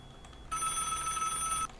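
A phone rings in a video game, one steady electronic trill lasting about a second, clear and close over a quiet background.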